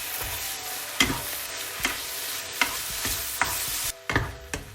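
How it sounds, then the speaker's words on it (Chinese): Noodles stir-fry in a wok with light and dark soy sauce and Lao Gan Ma chili sauce, a continuous hiss punctuated by regular spatula tosses about once a second. "然后不断的翻炒"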